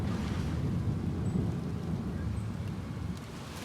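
Deep, sustained rumble of thunder during a thunderstorm, a loud low roll that swells and slowly fades over a few seconds, with a faint wash of rain or wind behind it.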